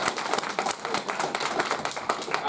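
An audience at a real estate event applauds and claps steadily, a dense patter of many hands filling the room for a few seconds at moderate volume.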